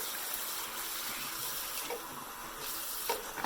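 Warm tap water runs steadily into a container while makeup brushes are being cleaned, a continuous hissing pour close by with slight splashy variation and no speech.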